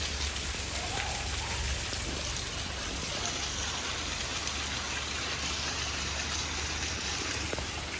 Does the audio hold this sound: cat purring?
no